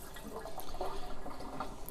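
Water draining out of the filter tank of an AquaCure machine, a steady, close, moderately quiet rush of flowing liquid with light gurgles and drips throughout.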